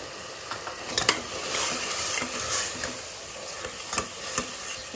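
Chilli powder and biryani masala powder, with turmeric and coriander powder, being stirred into tomato masala in a pan for Hyderabadi chicken dum biryani: a soft, steady scraping sizzle broken by a few sharp spoon clicks against the pan.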